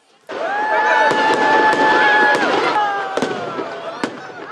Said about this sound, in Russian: А вечером опять же традиционный салют, посмотреть на который собираются целыми семьями.